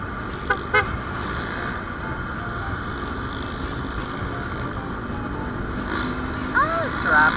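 Night road traffic near the Robinson mall in Santa Rosa, Laguna, with a steady engine and road rumble throughout, a couple of short horn toots early on and another near the end, with a voice talking faintly over it.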